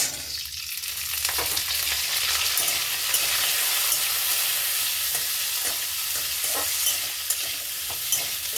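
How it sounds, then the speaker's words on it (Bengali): Potatoes fry in a hot pan with a steady, close sizzle, broken now and then by stirring scrapes and light clinks. "বাড়িয়ে এই আলুগুলো একটু লাল লাল করে ভাজবো"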